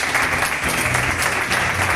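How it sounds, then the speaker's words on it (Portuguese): A church congregation applauds at the close of a celebration service, a dense, steady wash of many hands clapping together for about two seconds, loud and continuous with no talk over it. "Dá uma salva de palmas."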